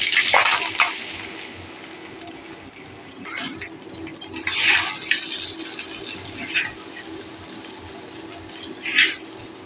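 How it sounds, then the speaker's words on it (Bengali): Rice fries in a pot with cinnamon, cloves and cardamom for chicken biryani, soft sizzling under a low hiss, with several sharp scraping stirs and rustles at irregular intervals. "আমরা এরকম করে 5-7 মিনিটে চাউলটা ভেজে নেব"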